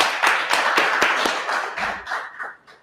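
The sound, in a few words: audience clapping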